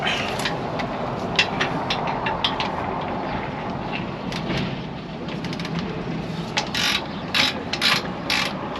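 A ratchet wrench clicks steadily as it tightens a nut during a repair of a broken spring pin, with repeated close, sharp pawl ticks in runs over a constant background hum.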